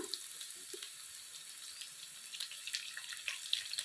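Curry leaves dropped into hot oil in a pan with frying onions for a thondekayi palya, giving a steady close hissing sizzle throughout with faint crackles.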